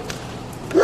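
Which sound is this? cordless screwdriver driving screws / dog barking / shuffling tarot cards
dog barking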